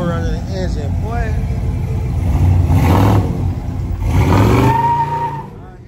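A supercharged Cadillac with a blower mounted on the engine revs loudly at a prison car, truck and bike show, with two strong rising bursts and a steady rumble beneath while people talk nearby.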